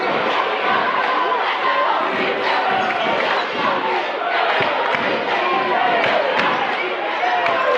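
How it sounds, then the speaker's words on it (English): A fired-up crowd packs the gym at a District 3 semifinal high school basketball game between Central York and Reading, with loud, continuous roaring, cheering and chatter filling the space throughout. "it's a fired up crowd in here tonight"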